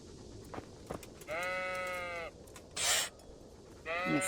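Sheep in the Kingdom Come Deliverance video game give two clear, drawn-out bleats, with a short breathy burst between them, over a quiet outdoor ambience with faint scattered knocks.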